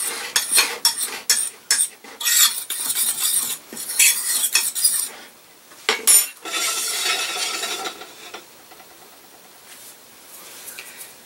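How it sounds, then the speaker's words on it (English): A utensil stirs seasoned flour in a bowl for fried green tomatoes, producing a run of close, scraping and clinking strokes in uneven bursts that thin out into softer swishing toward the end; no one speaks. "So let's mix that up, season up the flour a little bit."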